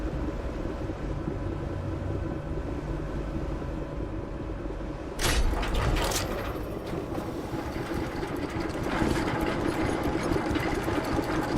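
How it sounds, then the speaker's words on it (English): A small electric boat engine in a video game runs as a steady mechanical drone, then a louder burst of clattering and whirring kicks in midway and continues to the end. "We're gonna use our electrical engine while we're processing these mines here."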